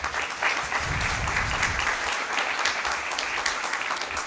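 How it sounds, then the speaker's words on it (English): Audience applause at a school district board meeting, a dense, steady wash of clapping that holds at an even level throughout. "Let's give them another round of applause."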